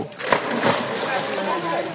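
A boy leaps into a river for a swim, and a broad splashing and sloshing of water follows at close range, mixed with outdoor noise and nearby voices.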